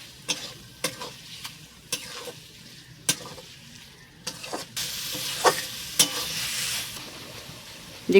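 Chicken mince for egg chowmein fries in a pan. A spatula clacks sharply and repeatedly against the metal, and a broad sizzle swells in the second half. Everything is close and fairly loud, with no voices.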